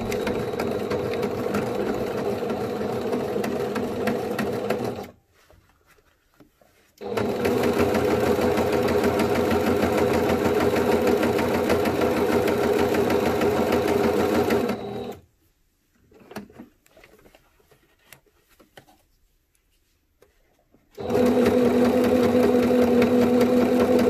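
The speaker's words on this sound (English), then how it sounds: "I'll take it over to the sewing machine and show ya" A sewing machine stitches a line on a homemade N95-type fabric mask in three loud, close bursts of rapid mechanical clatter, separated by short quiet pauses, with no voices.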